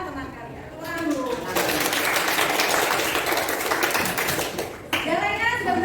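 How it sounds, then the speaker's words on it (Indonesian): Students in a classroom break into loud, dense applause lasting several seconds, with a voice heard before and after the clapping. "Tepuk tangan dulu."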